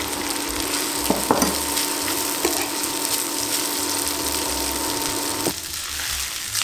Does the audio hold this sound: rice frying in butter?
yes